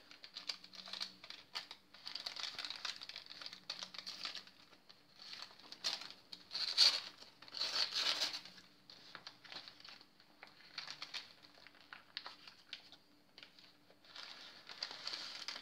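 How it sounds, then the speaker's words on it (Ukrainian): Soft papery crinkling and rustling comes in irregular bursts, close and quiet, as buttered baking paper is peeled off glazed chocolate-cherry Easter bread over a long stretch. "Хочу тепер зняти папір."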